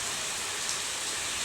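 Steady rain falls outdoors in a dense, even hiss that stays constant and close, with no voices.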